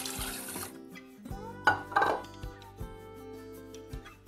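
Water is poured into a metal pan of sugar to start a syrup for milk powder gulab jamun: a short splashing pour at the start, followed by a few close metallic clinks and knocks of the pan and utensils, with no talk.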